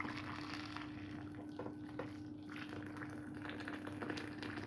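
Freshly boiled water poured over calves' feet, a steady close hiss and bubbling liquid rush running without pause, with no talk over it.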